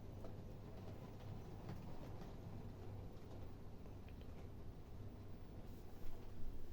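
A model 0-4-0 steam locomotive pulling away from a station with a load of pit props and timber, a low continuous rumble with faint clicking, quiet and steady, rising slightly near the end.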